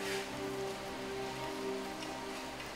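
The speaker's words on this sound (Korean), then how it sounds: "지금 4일 동안 계속 비가 오고 있습니다." Steady rain during days of flooding, a dense even hiss of drops on surfaces, close and continuous for the whole stretch, with a faint tonal hum underneath and no speech.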